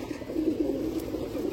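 Domestic pigeons kept at home coo in a soft, rolling murmur, several overlapping throaty calls close by, steady through the brief moment with no talking.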